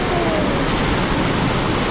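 Loud, steady rushing of cold mountain water near Babusar Top and Lulusar Lake, a dense broadband roar that fills the whole stretch without a break.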